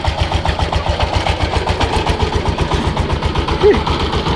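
A twenty-horsepower power tiller engine chugs steadily on its way to plough a field, a loud rapid regular thumping pulse close by, with voices talking over it.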